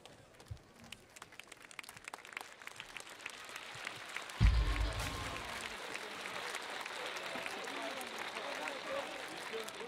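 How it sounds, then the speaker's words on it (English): A crowd at the Riverbank Arena during a London 2012 men's 5-a-side football semifinal gives warm, sustained applause and cheering, swelling midway and holding steady, with a commentator talking over it. "A warm applause at the Riverbank Arena for these athletes."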